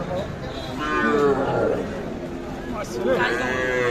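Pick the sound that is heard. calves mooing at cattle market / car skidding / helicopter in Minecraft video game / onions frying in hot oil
calves mooing at cattle market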